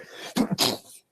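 One close, sharp human sneeze with a quick inhale and two bursts, loud and clear against a quiet room with no talking.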